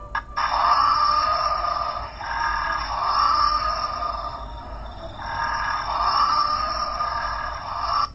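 A fairy penguin's raspy, droning call repeats in long harmonic bursts with short breaks between them, loud and close, no other sound present.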